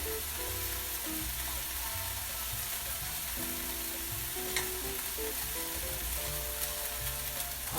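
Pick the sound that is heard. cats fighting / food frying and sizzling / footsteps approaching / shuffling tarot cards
food frying and sizzling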